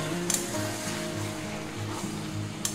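Potatoes and small tomatoes sizzle steadily in a pan of oil while being fried for a light chicken curry, a soft continuous crackle with faint stirring clinks.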